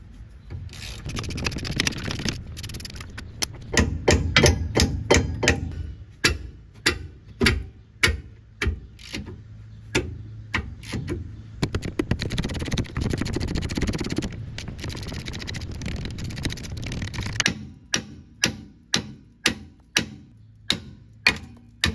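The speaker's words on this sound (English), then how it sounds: "I'm also going to go ahead and hit the brake rotor off while I'm here" Someone hammers the rear brake rotor off a 2015 Mazda CX5, producing a long series of sharp metallic strikes. They come in irregular bursts over a low mechanical background hum, with a quieter run of spaced knocks near the end.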